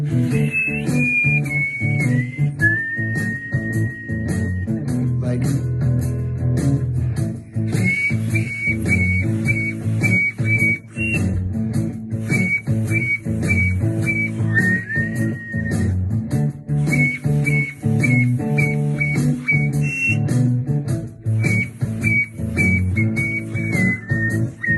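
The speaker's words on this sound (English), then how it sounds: "Then you can start whistling on with songs" Palatal whistling carries a song tune, bright sustained notes sliding and stepping through a melody with brief breaths between phrases, close and clear with no talk.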